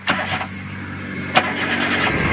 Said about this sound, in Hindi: अब स्टार्ट करो गाड़ी को, गाड़ी को स्टार्ट करो